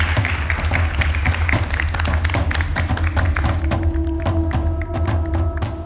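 Studio audience applause on a Turkish family quiz show, a dense, steady wash of clapping with thuds and taps, loud and close throughout, with a faint tonal hum emerging near the end.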